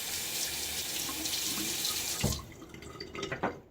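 A bathroom tap runs steadily as a razor is rinsed under it. Water hisses into the sink, then the flow stops, leaving a few close splashes and clinks.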